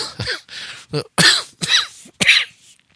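Several sharp, harsh coughs burst out in a quick irregular series, loud and close, from a person recovering after surgery with a whooping-cough-like illness.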